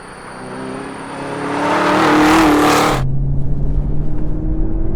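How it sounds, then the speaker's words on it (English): A Chevrolet Camaro ZL1 1LE roars on a race track, its engine note swelling loud as it accelerates past, then cutting off abruptly to a lower steady hum. "The sound that comes out of that motor is just so visceral"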